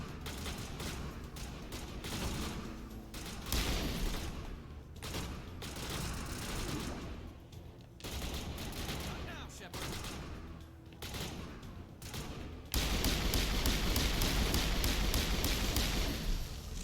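Rapid bursts of gunfire using poison rounds in the video game Mass Effect 1, sustained volleys and mechanical clatter over game sound, with a louder, denser barrage near the end.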